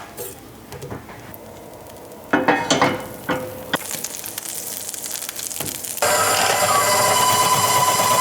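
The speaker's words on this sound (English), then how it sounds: "I'm gonna caramelize this onion" Shredded onion scrapes and sizzles in beef fat as it is stirred in a pan, and the frying grows into a steady, louder hiss toward the end.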